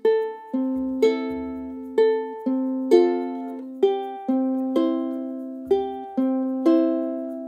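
Plucked ukulele notes picked one at a time in a steady, gentle pattern from a song, each note ringing and decaying, with no voices.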